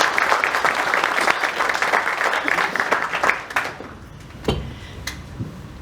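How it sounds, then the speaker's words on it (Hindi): An audience at an awards ceremony honouring film industry workers breaks into loud, dense applause that continues steadily for about three seconds, then quickly fades, leaving a few scattered claps trailing behind. "इसके लिए एक बार आप सबकी जोरदार तालियां बजाएं"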